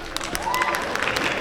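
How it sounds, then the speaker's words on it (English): Sparse applause from a convention panel audience at a Star Trek Q&A, a short smattering of claps mixed with crowd murmur and some speech, moderately quiet throughout. "Smattering of applause for Smattering."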